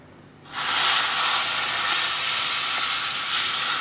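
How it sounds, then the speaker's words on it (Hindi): Hot oil poured over raw coriander powder and fenugreek seeds for an instant sweet-sour raw mango pickle bursts into a loud, abrupt sizzling hiss that holds steady and close for several seconds, with no talking. "और तेल अच्छा गरम हो चुका है तो अब मैं इसमें तेल डाल रही हूँ"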